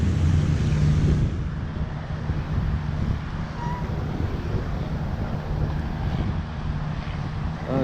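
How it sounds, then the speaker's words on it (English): Strong wind buffets the microphone on a coastal walk in Ao Nang, Krabi, with boats heading out, a constant heavy roar throughout, loudest at the start. "Bit windy."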